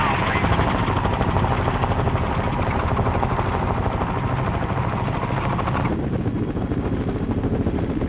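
An AH-1G Huey Cobra attack helicopter produces a steady, loud, throbbing rotor and engine roar that continues unbroken, with a narrator's voice faintly mixed in.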